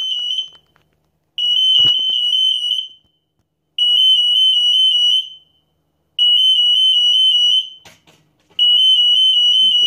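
An electronic buzzer shrieks at a piercing pitch above 100 decibels, sounding in four long continuous blasts of roughly one to two seconds each separated by short silences, loud and close with no other sound.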